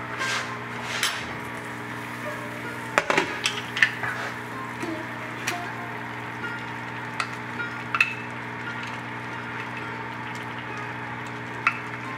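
Cooked dal for sambar being mixed in a pot, with soft scraping and stirring over a low background hum and occasional sharper knocks of the spoon against the pot.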